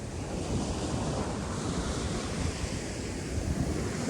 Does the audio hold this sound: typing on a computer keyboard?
no